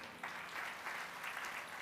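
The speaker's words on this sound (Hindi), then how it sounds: "कुछ भक्तों ने जो सहयोग किया एक बार उनके लिए जरूर तालियां बजाइए।" Faint, distant applause from a devotional gathering clapping for contributing devotees, a soft steady patter of many hands lasting under two seconds.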